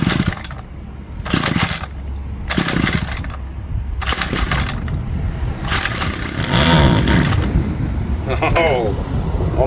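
A small engine with a freshly cleaned carburetor sputters and revs in short, loud, ragged bursts, then runs more steadily with rising revs, close by, with people talking over it.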